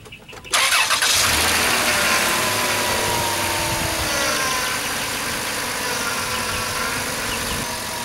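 A 2005 Dodge Grand Caravan SXT engine cranks and catches, then settles into a steady, fairly loud running hum that continues without a break, after a steering reservoir replacement.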